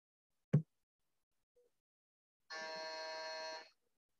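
Meeting timer buzzer sounds once, a steady harmonic buzz lasting about a second, near and clear after a short click and otherwise quiet room.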